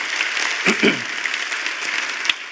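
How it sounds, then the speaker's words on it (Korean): Audience applause at a Korean talk-show stage event, a steady dense wash of clapping throughout with a brief low murmur of voice near the start. "박수 감사합니다."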